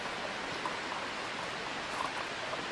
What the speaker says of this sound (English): Sounds like waterfalls to me.